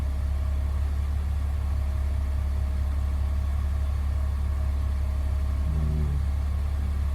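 BMW E46 330ci engine runs at a steady, loud, close rumble with a constant drone, the throttle giving only a slight change in tone near the end, with no talk.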